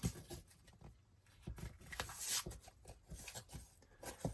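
A scalpel cuts slits through paper on an art journal page, making faint, close, irregular scratchy scraping and tapping sounds in a quiet room.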